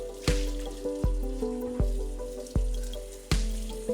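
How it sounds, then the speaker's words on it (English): Coffee maker parts are washed with dish soap in a kitchen sink, with a series of sharp clinks and knocks against the basin over a soft background of water. "I'll grab all the removable parts and wash them in the sink with dish soap"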